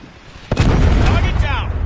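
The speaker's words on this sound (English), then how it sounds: "Friendly Predator missile inbound." A Predator missile striking in Call of Duty Mobile, a sudden loud blast followed by a sustained rumbling roar that lingers with fading crackle.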